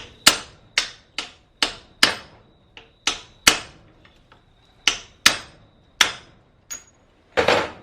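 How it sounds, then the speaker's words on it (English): A hammer taps pins out of an old leaf spring shackle: about fourteen sharp, ringing metallic strikes, close and loud, in an uneven rhythm with brief pauses between them. "So now I've got to tap these pins out of the old one."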